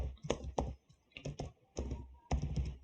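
Keys on a computer keyboard clatter in short bursts of quick typing, close and clear, with brief pauses between the runs of keystrokes.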